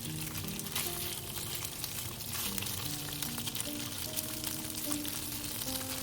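Shrimp sizzle steadily in hot oil with sautéed ginger in a pan for a shrimp and broccoli stir fry, a dense continuous frying hiss with faint tonal clinks layered over it.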